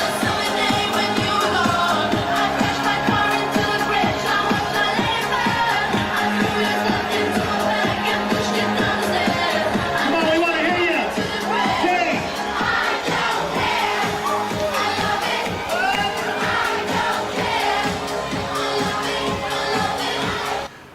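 Wedding guests singing along together to a song over loud dance music, a dense, sustained crowd chorus filling the room for about twenty seconds.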